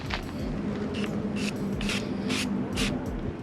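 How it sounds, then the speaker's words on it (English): Aerosol wood preservative is sprayed onto the cut edges of deck lumber in several short hissing bursts, close and fairly quiet, separated by brief pauses over a low background. "So what we do is we just spray paint the cut edge."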